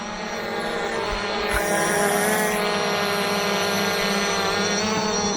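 Two quadcopter drones, a Hubsan Zino 2 and a Fimi X8, hover a few metres off the ground, their steady multi-layered propeller whine and buzz filling the air continuously at close range.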